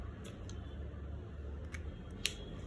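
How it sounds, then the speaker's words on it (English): Scissors cutting out a paper pattern for a princess-dart gown bodice, giving a few faint, quiet snips spaced apart against a soft room hush. "we're going to cut out our bustier first, then we'll go ahead to cut this out."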